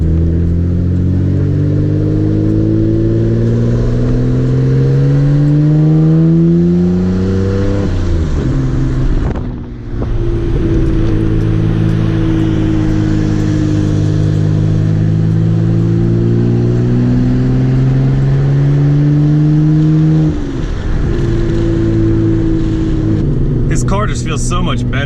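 A 600HP Nissan Skyline R32 GTR revs while driving, its engine note rising and falling through gear changes under steady wind rush, with someone talking over it.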